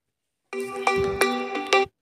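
Android phone ringtone sounding for an incoming call: a loud melodic electronic tone with strong sustained notes and sharp accents about every third of a second, playing alone for just under 1.5 seconds before cutting off.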